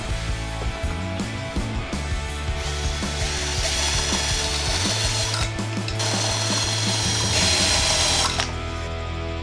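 Power drill boring countersink holes for string ferrules through a jig into the wooden back of a semi-hollow Telecaster-style guitar body, a steady whirring motor with grinding bursts, close and loud, no talk.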